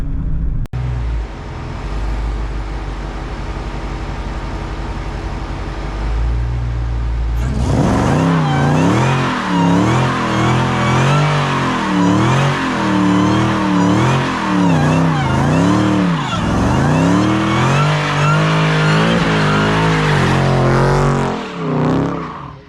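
A Dodge Hellcat idles with a deep rumble, then erupts into a loud, sustained burnout, the engine roaring and surging through repeated revs as the tires squeal for about fifteen seconds before cutting off.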